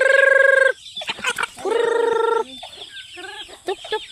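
Chickens cluck and a rooster crows in loud, close, repeated calls, with short squawks and rustling between the bursts.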